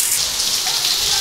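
Dense, loud hiss of heavy rain pounding down continuously, close and steady with no gaps.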